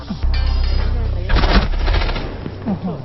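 Automatic gunfire in the tactical shooter game Rainbow Six, a loud sustained burst of rapid shots mixed with game effects, with people talking over it.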